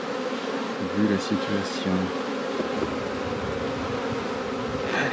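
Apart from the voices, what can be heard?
honeybees buzzing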